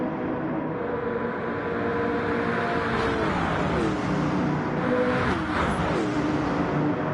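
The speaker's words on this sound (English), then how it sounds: "Here comes Brady Fletch pushing that 43 car." Race cars roar around a track in Gran Turismo 7 during a CASCAR stock car event, a steady loud engine drone with pitch sweeps as a pack of cars passes close by.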